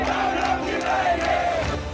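A large crowd at Jantar Mantar in Delhi chants slogans in unison, a dense, steady roar of many voices with rising and falling shouted phrases throughout.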